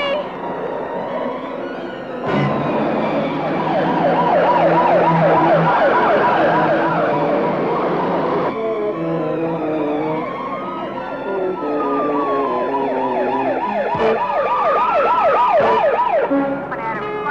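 A wailing ambulance siren in a city street cycles continuously up and down, loud and close, with a second siren tone sweeping in, over traffic rumble.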